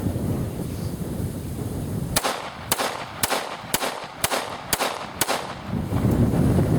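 A gun fires a string of rounds at a shooting range: seven sharp, loud, close shots spaced roughly half a second apart, with no talking.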